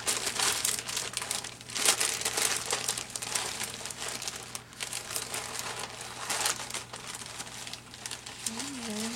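Sheets of stickers and labels crinkle and rustle steadily in close handling, a continuous papery crackle with shifting intensity throughout.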